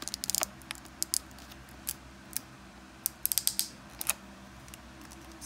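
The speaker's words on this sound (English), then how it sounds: "Securely unbox the dimmer first." Sparse light crinkles, clicks and rustles of a Leviton dimmer switch package being unboxed, close and quiet over a faint steady hum, with no talking.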